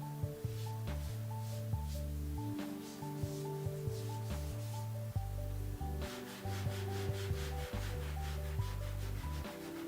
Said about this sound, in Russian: На последнем этапе мы должны взять шлифовальную бумагу марки от 1000 до 2000 и окончательно довести поверхность барельефа до гладкого состояния